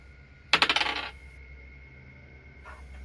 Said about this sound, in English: Why do I hear dice rolling?